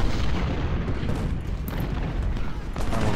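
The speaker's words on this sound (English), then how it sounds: "Alright, artillery's coming in from here." Artillery fire on a Civil War battlefield in Ultimate General: Civil War, a steady rumbling wash of cannon booms and musketry, loud and continuous with no clear gaps.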